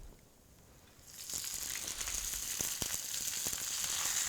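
Spinach and garlic hit a hot pan and start sautéing, a quiet start that jumps into a bright steady sizzle with a few light stirring clicks.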